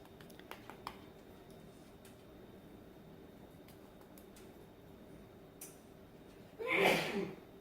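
A single sharp sneeze bursts out near the end after a quiet stretch with faint background hum and a few small clicks.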